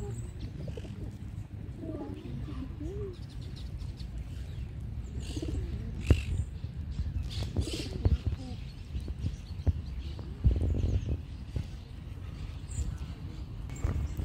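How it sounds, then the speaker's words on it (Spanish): Pigeons coo softly nearby on a Barcelona street, their low calls drifting under a woman's close chatter, with occasional small thumps and rustles. "Me van a subir las palomas, tío."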